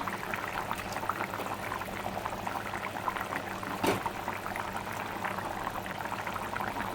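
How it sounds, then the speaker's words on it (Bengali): A pot of eggplant curry broth boiling steadily, with dense continuous bubbling and popping close by and a brief louder splash partway through. "এদিকে ঝোল ফুটছে।"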